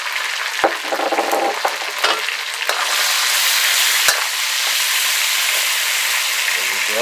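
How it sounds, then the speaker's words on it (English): Sliced peppers hitting a hot pan for a beef and tatsoi stir fry, a loud steady sizzle that swells and holds after a few clanks of utensils. "I want to go ahead and add my peppers."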